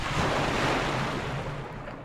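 In Zelda: Twilight Princess, the character goes under the water to a broad, rushing wash of water and surf that fades slowly over a couple of seconds, with no speech.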